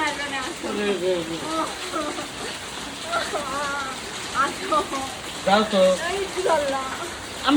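Steady rain patters on a surface while people talk back and forth over it, the downpour constant throughout.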